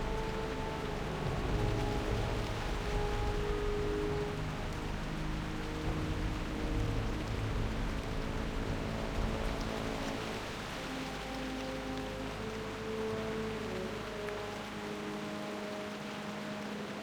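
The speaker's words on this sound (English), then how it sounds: "Can decide if the pouring rain is a good thing." Pouring rain in World of Warcraft Classic, a steady, dense hiss of rainfall holding at even loudness throughout with no voices, easing a little toward the end.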